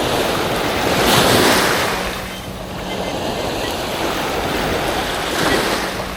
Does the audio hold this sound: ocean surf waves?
yes